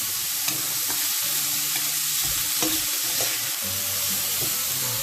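Lean minced beef with no fat fries in a little oil, a dense continuous close sizzle with spoon scrapes and stirring knocks throughout, no talking.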